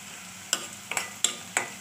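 Vegetables sautéed with ginger-garlic paste in a pan: four sharp spatula scrapes and taps land at irregular intervals over a faint background sizzle, close up and quiet.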